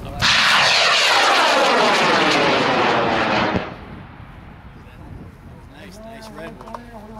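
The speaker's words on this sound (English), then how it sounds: "we're ready with John's rocket" A model rocket launches at a memorial flight event, its motor roaring loud and broadband for about three seconds before cutting out, leaving a quieter tail of outdoor ambience with faint voices and rustles.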